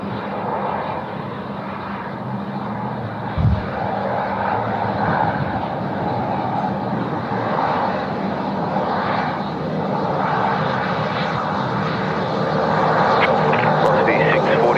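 A Korean Air Boeing 787-10 rolls along the runway at Sydney Airport after landing, its engines a steady distant roar that swells slightly toward the end, with someone talking over it.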